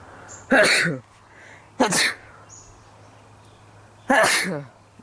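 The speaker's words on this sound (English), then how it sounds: "Didn't mean to sneeze in your ear." Three sharp sneezes spaced a second or two apart, loud and close, with a faint low hum and a few distant bird chirps in the background.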